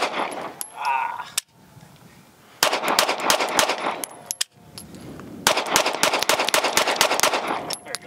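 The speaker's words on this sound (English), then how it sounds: "we've been shooting the SuperVel 115 grain certified select" A Sig P365 Fuse pistol firing SuperVel 115 grain rounds outdoors, several loud, sharp shots in quick strings with pauses between, close to the microphone.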